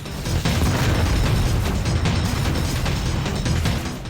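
A Descent 2 video game explosion as an enemy robot is destroyed by ramming: a loud, dense rumbling blast that fills the whole stretch with crackling debris noise and no talk.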